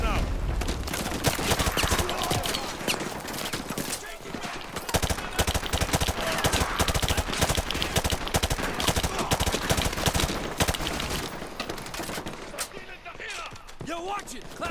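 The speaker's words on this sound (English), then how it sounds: "We're taking heavy fire from the school." Heavy gunfire in Call of Duty Modern Warfare 2 Remastered, a battle at a school, with continuous loud automatic bursts and sharp cracks almost throughout, while radio chatter and voices talk over it.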